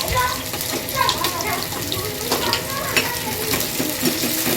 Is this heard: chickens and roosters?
no